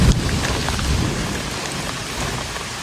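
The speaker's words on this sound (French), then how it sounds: "On se prend la pluie." Rain pours steadily during a thunderstorm high on Kilimanjaro, a dense close hiss of drops on surfaces with a low rumbling burst of thunder at the start, continuous and without voices.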